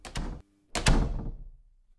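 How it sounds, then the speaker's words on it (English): A door closing: two broad knocking thuds, then a heavier impact with a low resonant boom that decays slowly, fairly close and fairly quiet, with no talk. "Now close your door, Logan."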